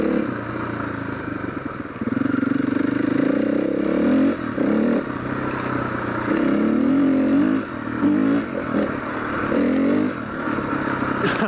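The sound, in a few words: Husqvarna FE501 dirt bike riding off road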